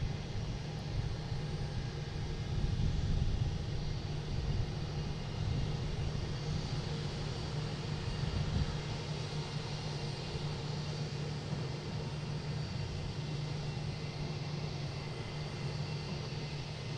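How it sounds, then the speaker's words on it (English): At Boston Logan, a JetBlue Airbus A220 jet bound for Nashville rumbles at a distance on takeoff, a low, steady roar that stays even and fairly quiet from start to finish. "Here's JetBlue heading to Nashville in A220"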